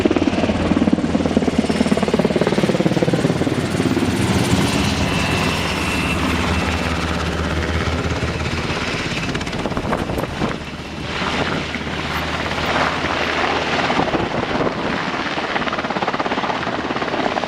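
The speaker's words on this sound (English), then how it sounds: "Just have a look here, that's a Black Hawk there." A Black Hawk helicopter lands close by, its loud rotor thump and roaring wash steady throughout, blowing dust in a whiteout with wind buffeting the microphone.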